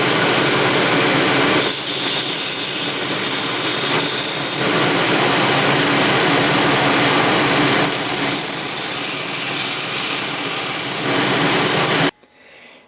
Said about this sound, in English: I'm using both abrasive belts, the wide and the narrow, to get into some of the intricate parts